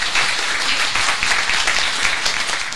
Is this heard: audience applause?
yes